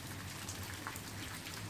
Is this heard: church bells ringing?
no